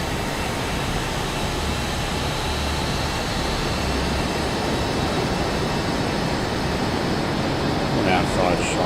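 An old propeller airplane taking off from a grass runway in a crosswind in Microsoft Flight Simulator, a loud, steady engine roar with broadband noise that holds constant throughout.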